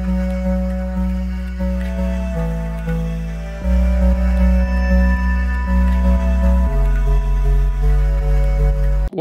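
Layered electronic production: a deep synth bass with white noise, reverb and sustained strings, playing slow chord changes, loud and alone with no voices.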